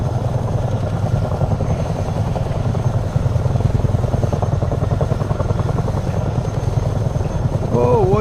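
A helicopter in a video game flies with a steady, loud rotor thrum and engine whine throughout, joined near the end by brief higher-pitched tones.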